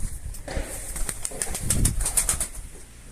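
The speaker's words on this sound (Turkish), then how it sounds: "Kanat sesi falan güzel." Pigeon wings flapping in flight near a loft, a rapid series of close, crisp wingbeats rising to a flurry, with faint bird sounds in the background.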